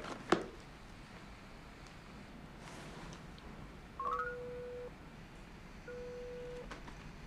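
A telephone number being dialed, with a sharp click followed by a few short electronic tones, then a longer steady tone and another later, all faint against quiet room hush.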